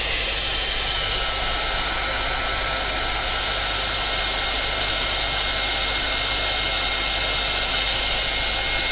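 Heat gun blowing hot air over a craft gnome to give it a glossy finish, a steady loud whooshing blast that lasts the whole time with no pauses.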